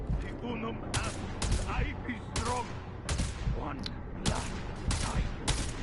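Rapid bursts of gunfire in the video game Warframe, several sharp volleys and sustained automatic fire spread across the clip, loud and close, with a player talking over the shooting.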